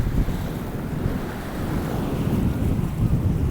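Floodwater of the swollen Bhima river rushing in a steady, loud roar, with gusty wind buffeting the microphone throughout and no talk.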